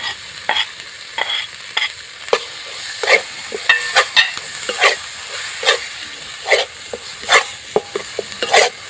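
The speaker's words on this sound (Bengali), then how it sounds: "এভাবে করে মুসুর ডালটা আমি কষিয়ে নেবো" Boiled masoor lentils are stir-fried in a pan, with rhythmic bursts of hissing and scraping as a spatula works through them, each stroke rising and fading in a steady repeated pattern.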